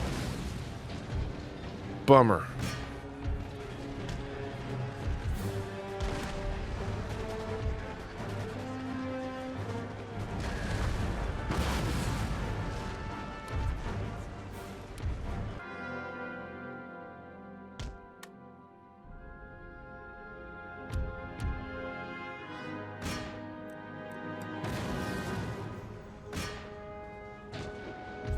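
Cannon fire booms through a Prussian Wars video game battle, with heavy blasts over a dense, continuous din of battle noise and music, and someone talking briefly.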